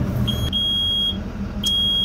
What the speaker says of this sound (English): And we've got engine coolant alarm.